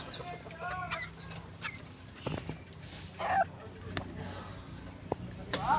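Small white junglefowl (labuyo) chicks cluck and peep in short, scattered calls close by, mixed with other fowl sounds and occasional knocks, with voices talking intermittently.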